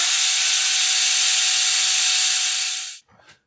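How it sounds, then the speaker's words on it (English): A half gear for a BMW throttle actuator is drilled, a steady high-pitched whine running for about three seconds before cutting off, then a few faint clicks as the part settles. "now we're going to drill the part."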